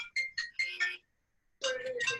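A phone ringtone plays a quick bright melodic phrase of several notes, breaks into a short silence, then starts again, loud and close with no voices over it.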